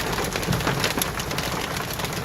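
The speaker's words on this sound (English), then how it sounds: "It's raining ice. It might be hail now." Steady rain mixed with ice pellets or hail falls outdoors during a storm, a dense continuous hiss and patter close by, with no talking.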